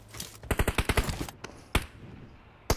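Rapid bursts of gunfire in the mobile game Hiệp Khách Mobile: a quick rattling string of about eight shots, then a few isolated single shots spaced apart, sharp and close.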